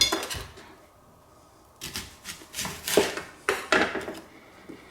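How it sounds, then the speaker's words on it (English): A knife chops red onion on a board in short bursts of sharp, close taps, with a pause early on and then a quicker run of strikes toward the end. "Now we'll chop up our 1/4 cup of red onion."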